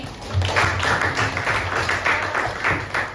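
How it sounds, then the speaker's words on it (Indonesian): Crowd applause, a steady patter of many hands clapping for about three seconds, fairly close, with no talking. "Tepuk tangan dulu nih"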